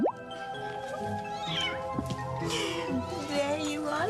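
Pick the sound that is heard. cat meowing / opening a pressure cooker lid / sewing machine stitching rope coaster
cat meowing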